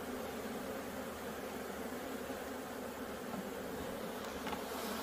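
Strong honeybee colony buzzing densely around an opened hive during spring build-up, a steady close swarm drone that fills the whole stretch without a break and without any voices.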